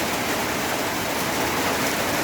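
Steady heavy rain pours over a house construction site where workers are putting up an awning, a dense unbroken hiss that fills the whole moment with no voices.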